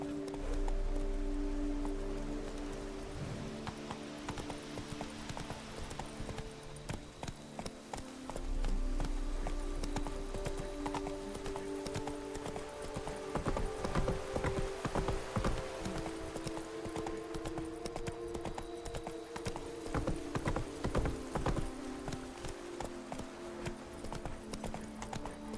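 A horse galloping in The Witcher 3: Blood and Wine, its rhythmic hoofbeats running steadily over game music and ambience, with a brief whinny and faint rain-like patter.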